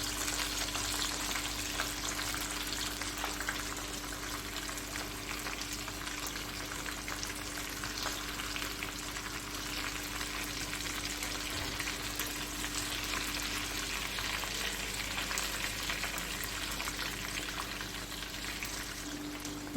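Chicken boti pieces fry in hot oil with a steady, even sizzle and fine crackle, a constant low hiss running throughout with a faint electrical hum and no talk.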